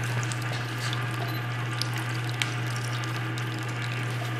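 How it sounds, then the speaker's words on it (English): Water flows steadily over a knickpoint in a fluvial model, a continuous rushing wash over a constant low pump hum, with no voices. "Water is flowing over at"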